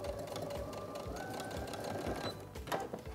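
A sewing machine stitches forward and back over elastic on a pair of basic shorts, a close, fast, even mechanical rattle running continuously with a faint shift in pitch partway through.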